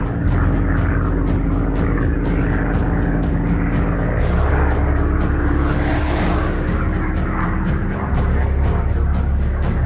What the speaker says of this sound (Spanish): En el portaaviones, los aviones Tracker despegan para explorar.